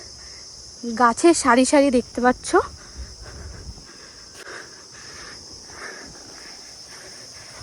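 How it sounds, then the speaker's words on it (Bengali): Crickets keep up a continuous high, shrill drone along a tree-lined roadside near Bakkhali. Someone speaks briefly over the insect sound, which then carries on alone. "শুধু ঝিঝি পোকার ডাক আর ডাক"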